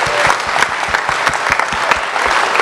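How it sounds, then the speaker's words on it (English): A conference audience claps steadily in a large hall, a dense patter of many hands sustained and fairly loud from start to finish, with no talking over it. "Give yourselves a hand"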